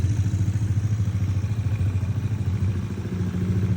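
A 200cc Yamaha NMAX v3 scooter fitted with an upgraded 200cc engine runs loud and close, giving a steady pulsing drone with a fast clattering beat that holds for the whole short stretch.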